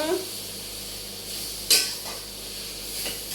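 A utensil scrapes and clinks against a pan as food is stirred during home cooking, a sharp scrape near the middle followed by softer strokes over a faint background hum.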